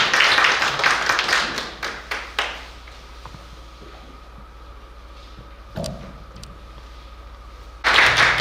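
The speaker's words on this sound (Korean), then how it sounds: "박수로 맞아주시기 바랍니다." Clapping at a local cultural center presentation to welcome a speaker: a few distinct, spaced hand claps that die out into a quiet room, then a sudden loud burst of clapping at the end.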